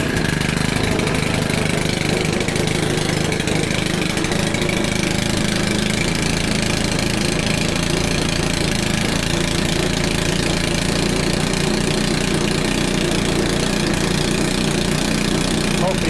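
A Stihl leaf blower engine idles as it warms up, a loud, steady two-stroke buzz running unbroken and close throughout, with a person talking over it.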